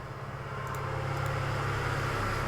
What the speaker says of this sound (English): Apologize for the loud truck.